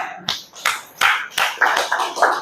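Children in a classroom clap for a classmate, a few loose, uneven claps spread over two seconds rather than full applause, close and fairly loud with no talking.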